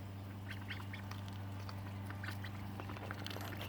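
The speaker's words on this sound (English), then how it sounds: "Ducks at the barn." Ducks at a barn quack in a busy, overlapping chorus of nasal calls, close by over a steady low mechanical hum.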